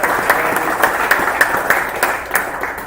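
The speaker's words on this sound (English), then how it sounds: "give him a round of applause" Crowd applause at a motorsport driver's meeting at Road Atlanta, with steady clapping from a gathered audience lasting the whole moment, sharp individual claps standing out over a dense wash.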